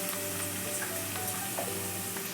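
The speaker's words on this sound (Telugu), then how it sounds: "మళ్ళీ కొంచెం కలబెట్టుకొని గ్యాస్ సిమ్లో ఉంచుకోవాలి" Mutton curry with turmeric fries and gets stirred in a pan over a gas flame, a loud, continuous sizzle with faint scraping as it is mixed.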